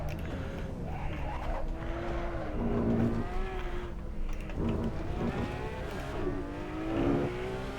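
Porsche 911 GT3 RS engine in the Assetto Corsa racing game revving hard near 9,000 RPM with rising and falling pitch through gear changes, loud and continuous, with some tire squeal on track.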